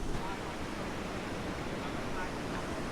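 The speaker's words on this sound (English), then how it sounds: "Right in front of us, there are small to medium-sized waves" Small to medium waves break continuously at Kata Beach in Phuket, a steady broadband wash of surf with a faint wind rush, close by and unbroken by talk.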